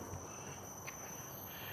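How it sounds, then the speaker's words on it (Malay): Cicadas drone in a forest of big old trees on Bukit Komanwel in Bukit Jalil, a continuous high, even buzz heard from a distance with no voices. "Bunyi riang-riang rasanya tu."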